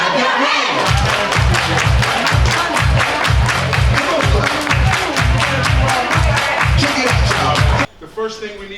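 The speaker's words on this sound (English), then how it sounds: "Everybody clap your hands!" A gala audience claps in unison, with loud, close, evenly spaced claps keeping a steady rhythm before stopping abruptly near the end, while crowd voices and cheering mix in.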